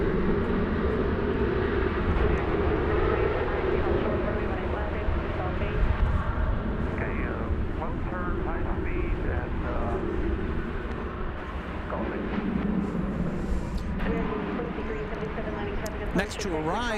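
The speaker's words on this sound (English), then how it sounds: "That's an American flight just landed from Newark" An American Airlines airplane just landed from Newark rumbles low and steady at Dallas Fort Worth airport, moderately distant, with a voice talking over it.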